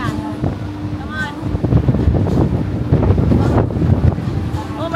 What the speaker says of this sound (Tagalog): Oh my God, mahangin.